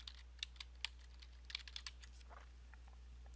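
Computer keyboard typing in a live online class, quick irregular key clicks, faint and close over a low steady hum, no voices.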